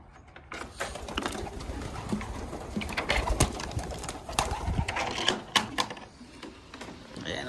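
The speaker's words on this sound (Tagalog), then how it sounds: "Tingnan natin ang aking kalapate" A pet pigeon cooing close by, soft repeated coos mixed with rustling and scratching, and a person talking faintly in the background.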